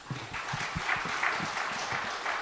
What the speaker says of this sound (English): so a round of applause again for Kiran, please.